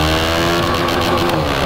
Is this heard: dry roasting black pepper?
no